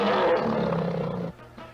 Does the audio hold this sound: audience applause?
no